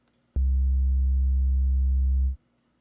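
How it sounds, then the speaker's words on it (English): Native Instruments Soul Magic's Feel That Bass synth preset plays one deep, steady bass note that starts sharply, holds loud and even for about two seconds, then cuts off into quiet. "Next is the Feel That Bass."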